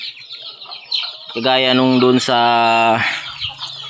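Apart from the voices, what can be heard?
hen and chicks clucking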